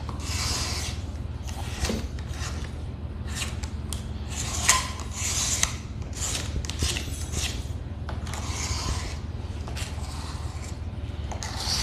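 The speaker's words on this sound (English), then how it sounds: "Just kind of scrape along the sides." A scraping tool is drawn along the sides of wooden staircase spindles during a refurbishing job, giving a continuous close rasping with repeated short strokes over a low background hum.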